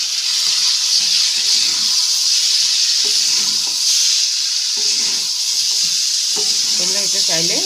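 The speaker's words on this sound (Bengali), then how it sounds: "মশলা কষানো হয়ে গেছে এখন এর মধ্যে দিয়ে দিচ্ছি সেদ্ধ করে রাখা আলুগুলো" Boiled small new potatoes are added to spices frying in a pan for alur dom. A steady bright sizzle hisses throughout, with faint stirring and scraping and a brief soft voice near the end.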